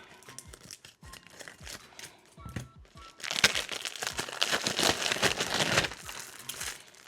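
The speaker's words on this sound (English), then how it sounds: "Let me cut this open." Plastic packaging around a newly bought item is sliced and pulled open up close, starting with quiet scattered crinkles and then a louder stretch of steady crackling and tearing.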